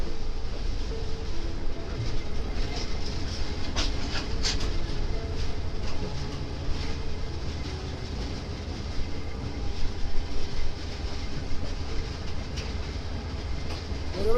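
A train rolls along the platform at Bhairab railway station, a steady mid-level rumble of wagons with scattered clanks and clicks over the whole stretch.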